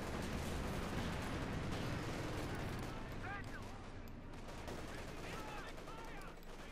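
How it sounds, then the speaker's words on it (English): Machine gun fire in the video game Company of Heroes 2: continuous rattling bursts and booms fill the clip densely, with a voice talking over them and faint chirpy in-game sounds mixed in. "Troops getting molested by machine gun fire, torn to shreds."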